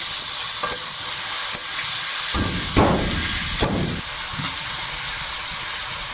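Whole cumin and whole garam masala fry in hot oil with a dense, continuous sizzle, swelling in two louder bursts as the pan is stirred.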